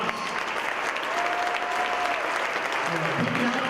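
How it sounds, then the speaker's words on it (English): A crowd in a gym at a women's college basketball game applauds honorees, dense sustained clapping throughout, with a voice briefly audible over it. "How about a round of applause"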